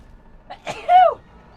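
A single close, sharp sneeze bursts out during a live gaming stream, loud and sudden against an otherwise quiet room.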